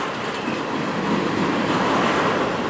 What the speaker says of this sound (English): look at that old tanker coming up here